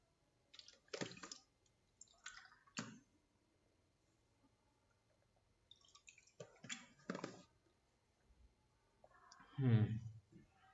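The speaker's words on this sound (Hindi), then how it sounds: "थोड़ा मैं पानी पी लूँ, गला सूख गया मेरा।" Someone drinks water in a quiet indoor room: a handful of separate wet gulps and faint liquid clicks come in short bursts between pauses, ending with a slightly louder swallow.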